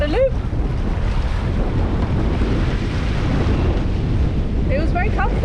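Strong wind roars and seas wash against a sailboat under windvane steering between Guadeloupe and Antigua, a loud continuous rush with gusts and a few faint chirps near the start and end.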